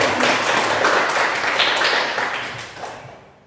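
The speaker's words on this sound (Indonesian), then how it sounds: "Tepuk tangan untuk Bapak Ibu." Clapping from an audience of teachers and parents at a school session on character education, a dense steady patter that fades out toward the end.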